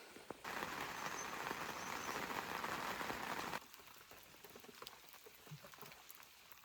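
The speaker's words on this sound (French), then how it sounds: "Là il pleut vraiment beaucoup." Heavy rain during sturgeon fishing roars steadily as a dense hiss for several seconds, then cuts off abruptly to a quieter patter of scattered drops.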